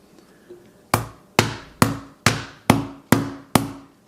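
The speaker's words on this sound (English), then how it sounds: "As I'm doing those small little hits, you can already see the cracks are spreading all across the phone here." A hammer strikes an iPhone 12 Pro screen in seven sharp, evenly spaced light hits, each a close, crisp crack that rings and fades before the next one.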